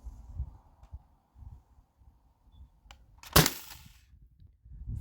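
A single sharp crack from a modified T4E HDB68 pistol firing an aluminum ball on HPA, standing out loudly against quiet background murmur and handling noise.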